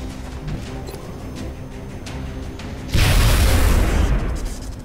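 A sudden loud synthetic boom from an explosion in XCOM: Enemy Within bursts in after a stretch of low electronic hum, then rumbles and slowly fades.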